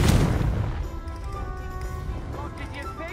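A Confringo fire spell in Hogwarts Legacy bursts with a loud booming blast at the start, then rings off into a sustained magical hum with shimmering tonal sweeps.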